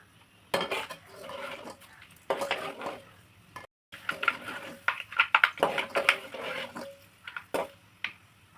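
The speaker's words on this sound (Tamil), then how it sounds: "இந்த வெந்தயம் பொரிஞ்ச உடனே இந்த வெங்காயத்தை அதில் கொட்டி நல்லா வதக்கணும்." Sliced onions tipped into a pan of fried fenugreek seeds are stirred and sautéed, with repeated clanks and scrapes of a metal spoon against the pan over a faint sizzle, in irregular bursts with a short gap midway.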